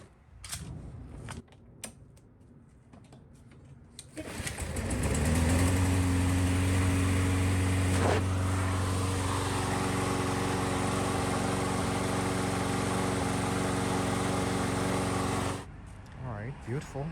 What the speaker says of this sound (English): try to start the lawnmower